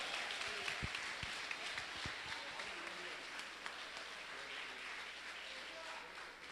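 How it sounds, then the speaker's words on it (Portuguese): A church congregation at a family service claps in praise, a faint, even wash of many hands at a distance, with a few sharper knocks early on and a voice murmuring underneath. "levanta a mão e aplaude a Ele"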